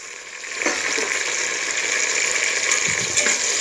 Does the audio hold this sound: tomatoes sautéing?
yes